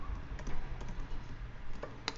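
A folder name is typed on a computer keyboard, a quick patter of soft key taps over a low background hum, with no talking.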